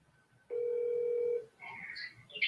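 A single steady telephone tone sounds from a call being placed, holding for about a second before faint movement and rustling follow, with no voices.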